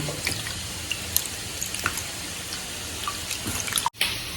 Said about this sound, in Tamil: ரத்தத்தை நல்லா கரைச்சி எடுத்துடலாம். நல்லா இப்படி கையிலேயே போட்டு நல்லா இப்படி நசுக்கி விட்டீங்கன்னா போதும்